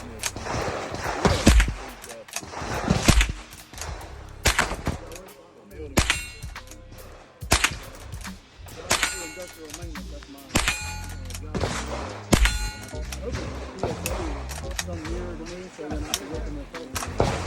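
A Rossi .22 Long Rifle lever-action rifle fires repeated sharp shots, each followed by a ringing clang as rounds strike steel targets, loud and close, with someone talking between shots.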